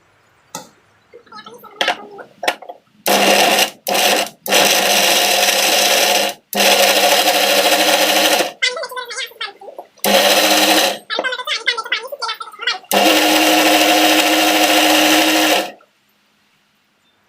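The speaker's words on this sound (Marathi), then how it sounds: "आता हे सर्व आपण मिक्सरमधून बारीक करून घेऊया" A mixer grinder grinds spice paste for egg curry in loud bursts of several seconds each, with rattling and handling noises between runs.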